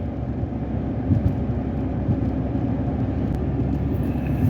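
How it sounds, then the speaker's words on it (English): A snow plow truck passes on a frigid North Dakota road at thirty below, a heavy low rumble that holds steady with a few faint knocks, fairly close and without voices. "Old snow plow guy out there getting ready for the next storm."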